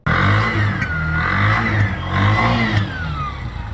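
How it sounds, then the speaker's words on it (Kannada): A freshly rebuilt engine, just filled with oil, starts and revs up and down in loud, close surges with a whining rise and fall in pitch and a throbbing low rumble. "ಆಯಿಲ್ ಹಾಕಿ ಸ್ಟಾರ್ಟ್ ಮಾಡಿದ್ರು ನೋಡ್ರಿ."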